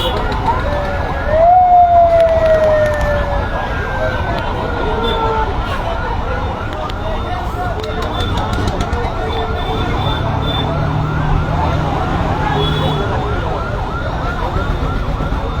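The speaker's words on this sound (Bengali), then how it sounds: "একটা অ্যাম্বুলেন্স আছে রে অ্যাম্বুলেন্সে আল্লাহ জানে কোনো ইমার্জেন্সি লোক আছে তো অবশ্যই অ্যাম্বুলেন্স" Ambulance siren on a busy highway through a market at Hatgopalpur on the Jhenaidah–Magura road, a sweeping wail rising out of dense traffic and crowd noise, with people talking throughout.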